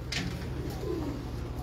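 Pigeons at a breeder's loft coo in a low, steady murmur close by, continuing without pause against a constant background hum.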